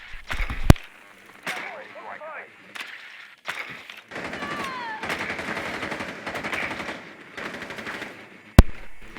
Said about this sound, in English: So we do hear gunshot down to the bottom of the freezer.